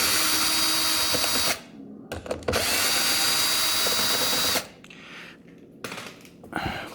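A power tool spins out two 7mm bolts from a Corvette C8 door panel in two loud, steady whirring runs of a few seconds each, separated and followed by softer clinks and handling noise.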